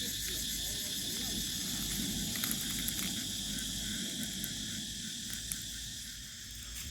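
Dense, shrill buzzing of cicadas fills the air continuously, steady and unbroken, over a faint low rumble.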